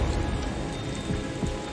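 Steady rain falling on a foggy, gloomy day, a continuous broadband patter with no breaks, moderately loud and without voices.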